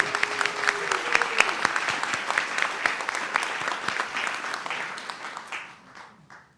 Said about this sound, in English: And let's go ahead and clap for Lainey.